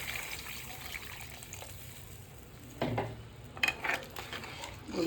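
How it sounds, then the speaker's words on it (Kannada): Water poured into a pot of crab soup with fried spices, coming in a couple of short gushing splashes over a quiet cooking background. "ನೋಡಿ, ಇಷ್ಟು ನೀರು ಹಾಕಬೇಕು."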